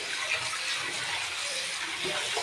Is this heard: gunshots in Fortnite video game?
no